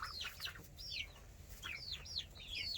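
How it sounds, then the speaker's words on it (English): An older hen in a backyard chicken coop gives a series of short, high, rising-and-falling calls in irregular bursts, fairly close, over a steady low background hum. "And that's from our older chicken, Goldie,"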